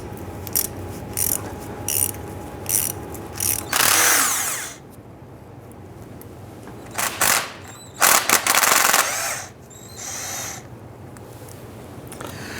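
A ratchet loosens T30 Torx screws on the transmission pan of a 2005-2010 Chrysler 300, giving close, crisp clicking bursts in short runs with pauses between them.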